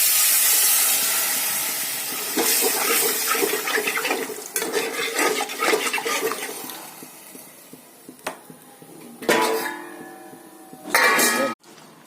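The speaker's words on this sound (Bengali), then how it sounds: "আর এই জলটা দিয়ে দেবো।" Water poured into a hot pan of bhetki fish curry, a loud sizzling hiss that fades over several seconds, followed by scattered clinks and a few more brief bursts of spattering.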